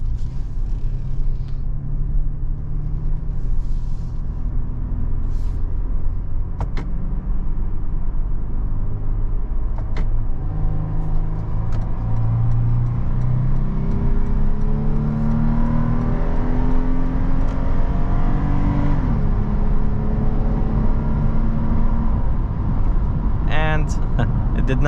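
2022 Toyota 4Runner accelerating on a highway, its engine rumble climbing in pitch through long revving pulls with a gear change, heard from inside the cabin under speech.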